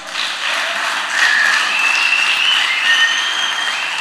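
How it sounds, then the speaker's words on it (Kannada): Applause for the teachers at a church kids' VBS grand finale in Udyavara, Udupi, a loud, dense crowd of clapping running steadily throughout, no speech over it. "ಎಲ್ಲ ಟೀಚರ್ಸ್ಗೊಂದು ಚಪ್ಪಾಳೆ."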